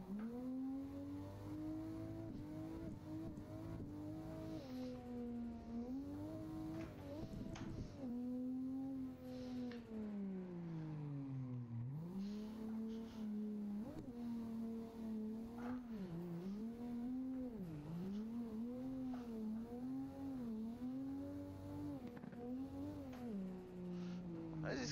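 A car drifts in a racing video game, its engine droning and revving up and down in long sweeps with tire squeal under the steady motor, continuous and close.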